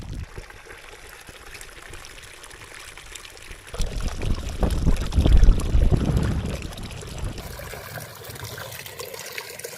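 Clear mountain stream water is scooped into buckets, with gurgling, splashing pours swelling loudly in the middle over a constant close stream background, then easing off.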